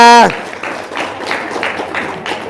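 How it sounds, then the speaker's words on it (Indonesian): A small gathering gives a short round of applause after a loud tonal burst at the start, with scattered, uneven claps and a voice over them. "tepuk tangan dong"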